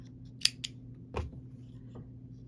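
Scissors snip apart sewn pieces of a log cabin quilt block, giving a couple of crisp close cuts followed by a softer rustle of fabric in a quiet room.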